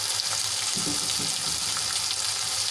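Tomatoes fry in a pan for a tomato chutney, with a steady, dense sizzle throughout and a few soft stirring scrapes partway through. No voices are heard.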